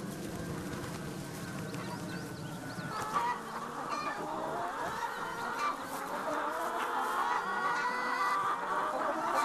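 Chickens on a pasture farm cluck and squawk in a busy overlapping flock, some calls near and others farther off, with faint murmuring beneath.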